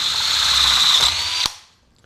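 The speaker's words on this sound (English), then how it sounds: "let me get the holes in there first" Power drill boring holes just under 10mm into a steel upper radiator core support on a tube chassis, a loud close high whine held steadily for about one and a half seconds, then a sharp stop.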